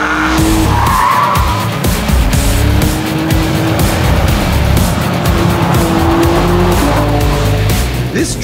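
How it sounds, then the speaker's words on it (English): A BMW M3 Competition with a torque converter automatic drifts, its tires squealing in long rising and falling wails over a loud, steady engine roar from inside the car. "More drifts!"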